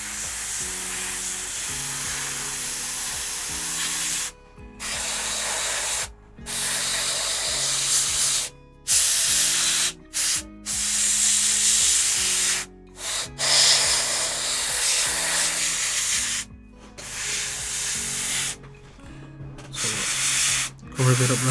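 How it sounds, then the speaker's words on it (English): An airbrush sprays paint onto a miniature model base in long loud hissing bursts cut by brief silent gaps, with a faint tonal hum underneath. "We're just doing it with an airbrush just for speed."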